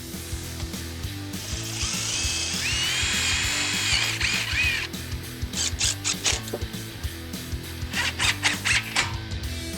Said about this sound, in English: Pre-drill just like I did for the top rail.